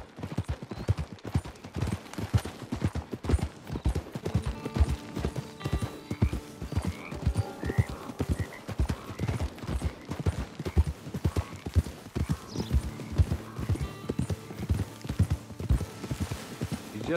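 Horse hooves clip-clopping steadily during a ride in the video game Red Dead Redemption 2, a continuous rhythmic trot up close with occasional whinnies and background game music.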